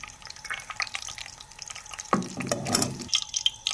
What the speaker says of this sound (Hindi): तकरीबन 30 सेकंड तक हम इसे रोस्ट करेंगे।